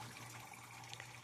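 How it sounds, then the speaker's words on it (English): Water running steadily through an aquaponics system at home, a soft continuous trickle and splash heard alone at low level, with no talking. "you can hear the water from the aquaponics"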